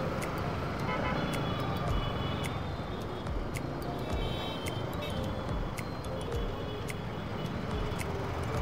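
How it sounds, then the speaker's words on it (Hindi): Heavy Indian street traffic in a jam heard from a motorcycle, a dense rumbling engine bed with repeated short car horn toots scattered throughout, moderately distant. "किस लेवल का ट्रैफिक जाम हो रखा है।"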